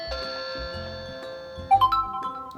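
An Annke wireless video doorbell chime rings out with sustained bell-like tones, followed by a brief, louder two-note ding near the end, with light clicks underneath.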